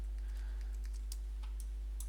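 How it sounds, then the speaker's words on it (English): A few sharp computer keyboard key presses, likely the space bar, tap out at irregular intervals over a steady low electrical hum in a quiet room. "I'm using the space bar to shuffle around"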